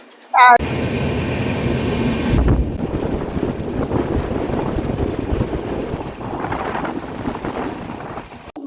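Steady, loud onboard rumble of a passenger train running late on a Kolkata to Goa route, with gusty wind noise over the carriage roar throughout.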